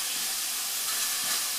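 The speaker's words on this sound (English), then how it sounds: "So you just brown the chicken in here." Chicken browning in a pot for a Filipino chicken tinola gives off a steady, even sizzling hiss, close and continuous throughout.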